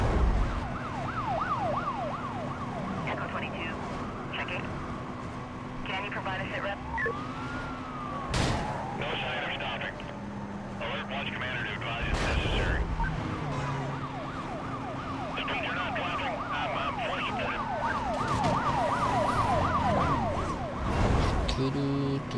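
Police car sirens wailing continuously in the racing game Need for Speed Most Wanted, several overlapping sirens rising and falling over engine roar and road noise, with occasional crashes and impacts.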